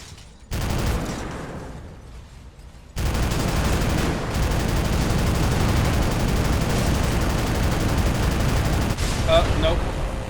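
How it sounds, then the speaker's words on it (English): Spaceship guns fire in the space game Starmade: a dense, continuous barrage of rapid blasts that starts briefly, pauses, then roars on without break for several seconds, loud and close. "my guns have further reach than theirs"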